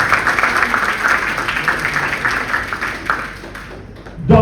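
Room applause for Kenneth Chan, Siemens CFO, at a business event, a sustained wash of clapping at moderate volume that fades toward the end before a brief noise at the close.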